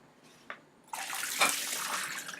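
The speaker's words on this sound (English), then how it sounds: "Now, what we're gonna do is, at this stage, we're gonna drain the fennel." Water pours as fennel is drained in a kitchen, a short splash followed by a steady rushing stream that swells and then tapers, close and without talk.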